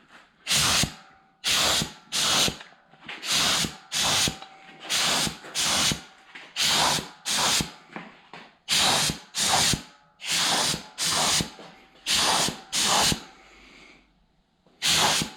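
Spray coating being applied to engine pistons for a 5.3 V8, wrist pin areas taped off, in about fourteen short, loud aerosol bursts with brief pauses between them and no talking.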